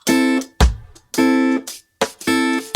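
Unmuted fingerstyle guitar notes ring out long and sustained, three or four separate plucked tones each left to decay fully before the next, close and clear.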